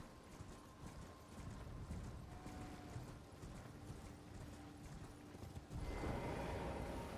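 Horse hooves clip-clop steadily in the video game Elden Ring, a quick rhythmic trot under faint ambient game sound, with a louder burst of noise near the end.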